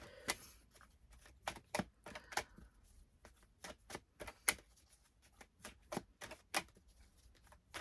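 A deck of cards is shuffled and handled close by, with a series of quick, crisp riffles and taps spaced irregularly over a quiet background.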